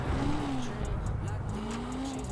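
A sports car in the video game GTA 5 with its exhaust crackling as the engine drones steadily, a low continuous hum under faint popping, with a person talking over it.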